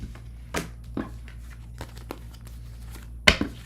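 Tarot cards being shuffled by hand, a few brief papery riffles and crinkling bursts separated by quiet gaps, close and fairly loud.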